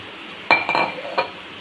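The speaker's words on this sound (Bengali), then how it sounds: "এবার আমি পটলগুলো এর মধ্যে দিয়ে দেবো, একটা করে পটল আমি দিয়ে দেবো এর মধ্যে।" Pointed gourds (potol) dropped one at a time into a pan, giving a few short clinking knocks against the metal, fairly quiet and close, with no talking.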